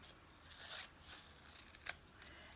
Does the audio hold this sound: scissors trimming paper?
yes